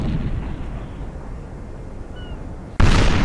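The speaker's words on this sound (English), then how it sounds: "Big broadside from the Trinidad on one of my frigates." A ship's cannon broadside from the Trinidad in a Napoleon Total War naval battle, heard as one sudden loud booming blast after a low rumbling lull, with no talking.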